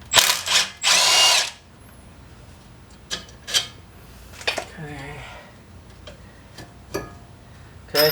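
A power tool with a 10mm socket loosens the front strut mount on a Porsche 987 Cayman, with two short whirring bursts and then a longer one near the start, followed by scattered ticks and small clanks.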